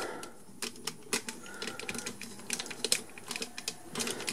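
A plastic Power Rangers Gosei Ultimate Megazord toy is folded by hand, producing a quick, irregular run of small, close clicks and snaps with light rubbing between them.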